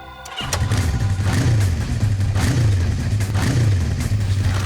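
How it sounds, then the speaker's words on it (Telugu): A motorcycle engine starts and idles close by, its throttle blipped in a few rhythmic revs over a steady low putter. "నీకు కొన్ని బైక్ శబ్దాలు వినిపిస్తాము"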